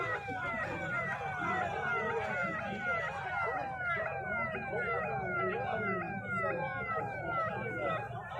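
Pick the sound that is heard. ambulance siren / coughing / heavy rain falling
ambulance siren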